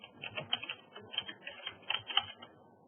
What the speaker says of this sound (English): we're going to type in Chatham.